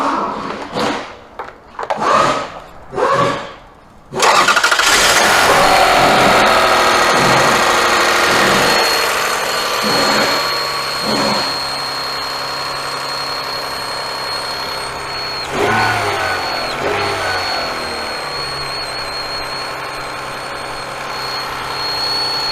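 A 2004 Toyota Avalon engine with a suspected belt noise: a few knocking thumps, then the engine catches and runs loud and close with a steady whine and faint squeal over the idle, rising briefly at intervals.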